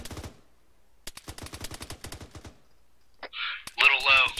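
Short bursts of machine gun fire from a SAW during fireteam training ring out as rapid, evenly spaced cracks in two volleys, followed by a loud shouted voice and radio chatter.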